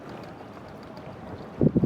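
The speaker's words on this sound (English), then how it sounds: "It's very windy. been windy all day." Steady gusty wind buffeting the microphone aboard a sailboat on the Escape River, Australia, over a low rumble, with a few heavier thumping gusts near the end.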